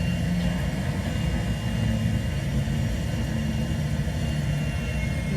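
Airplane engines in GTA 5 drone steadily, a loud, continuous low roar with a constant rumbling hum and no pauses, heard alone.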